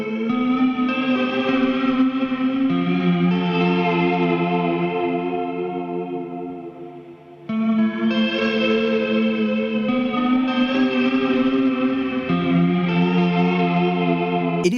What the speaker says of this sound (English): the Walrus Audio Slotva, is about creating a very intentional sound. A texture, creating a sense of spaciousness and depth